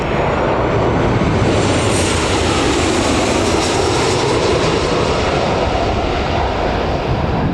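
A Jet2 passenger jet roars past at Newcastle Airport, a loud, broad engine rumble with a high whine that swells and sweeps by, filling the whole stretch without talk.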